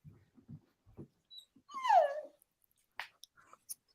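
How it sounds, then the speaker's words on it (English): A dog whimpers and cries softly in a quiet indoor room, with a drawn-out whine in the middle and a few short yelps and snuffles around it, heard alone. "My dog's like crying in the background here."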